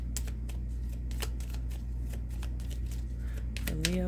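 Oracle cards being shuffled and drawn in a tarot-style reading, a close run of quick crisp riffling snaps over a steady low hum, with a brief voice near the end.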